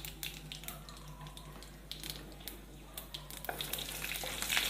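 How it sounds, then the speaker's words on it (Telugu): Mustard seeds, cumin, chana dal and urad dal sizzle and pop in hot oil in a pan for carrot coconut curry, with light crackling and stirring close by. "ఆవాలు జీలకర్ర శనగపప్పు మినపప్పు ఇది కొంచెం వేగిన తర్వాత మనం క్యారెట్ వేసుకుందాం"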